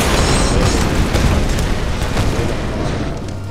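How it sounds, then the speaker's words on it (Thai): In the Tomb Raider video game, a thrown grenade explodes with a loud, dense, rumbling boom that fills the whole stretch with broadband blast noise and debris crackle, fading slightly toward the end. "โยนระเบิดเข้าไปนี่เองนะ"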